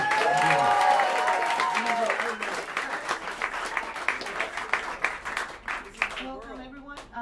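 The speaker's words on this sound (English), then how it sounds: "Big round of applause for Melissa Aldana." Audience applause in the small Smalls jazz club in New York for a quartet led on tenor saxophone, starting under a voice, then thinning to scattered claps as speech resumes.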